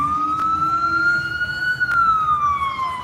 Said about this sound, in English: so it's actually an ambulance